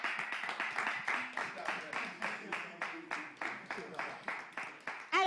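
Small group clapping in a steady, rhythmic pattern, close and fairly loud, with a few voices mixed in.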